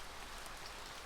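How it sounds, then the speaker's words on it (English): Steady rain shower from the visual novel Hoshi Ori Yume Mirai, a dense, even hiss of falling drops that fills the whole moment without a break or any voices. "It's just a few raindrops at first, but it takes no time to become a downpour."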